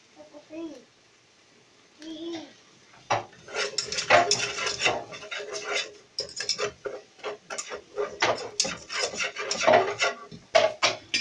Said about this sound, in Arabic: قلبي كويس لغايه ما الدقيق يتحمص تشم الريحه بتاعته.